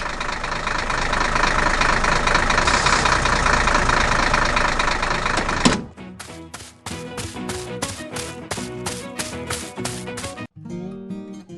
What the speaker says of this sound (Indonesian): Traktor sedang bekerja keras di hutan.